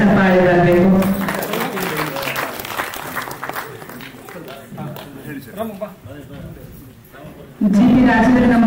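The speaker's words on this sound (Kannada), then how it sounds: "ಒಂದು ಜೋರಾದ ಚಪ್ಪಾಳೆ ಬರಬೇಕು" Audience at a film poster and song launch press meet breaks into sustained applause with crowd noise for several seconds, framed by someone talking before and after.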